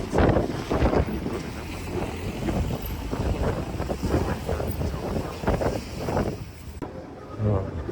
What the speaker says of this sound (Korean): 바람이 상당히 많이 불고요